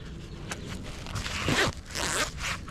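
A life jacket's zipper being worked, a few rasping zip strokes close to the microphone with light fabric rustle, no talking.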